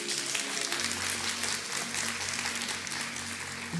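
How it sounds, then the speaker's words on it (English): A room full of people applauds at a church service after news of a new baby daughter, a steady dense wash of clapping with a low hum underneath, moderately distant and without speech. "Thank you for the applause."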